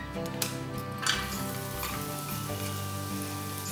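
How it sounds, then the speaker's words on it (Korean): Julienned carrot stir-frying in sesame oil in a frying pan: a constant close sizzle with light scraping and ticking from stirring throughout, no voices. "프라이팬에 참기름 1테이블스푼과 당근을 넣고 볶아줍니다."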